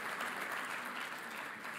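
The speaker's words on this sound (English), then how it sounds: "Give your guys a round of applause." An audience at an autism conference in Dubai breaks into steady applause, a dense, even wash of clapping from a large hall that stays soft and continuous throughout.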